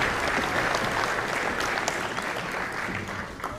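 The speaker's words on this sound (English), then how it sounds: "let's give him a round of applause for supporting us tonight and always" Audience at an elementary school spring concert applauds the district superintendent, a full, continuous wash of clapping that fades slightly toward the end.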